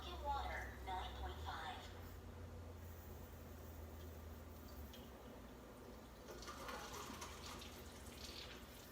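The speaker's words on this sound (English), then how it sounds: "Now I'm going to get Kangen water." Kangen water at pH 9.5 pours steadily from a tap or spout, a continuous splashing gush that stays close and moderately loud while a person speaks over it.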